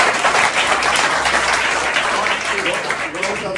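Audience applause in a classroom of students, dense continuous clapping from many hands throughout, loud and close, with a voice faintly audible beneath it toward the end.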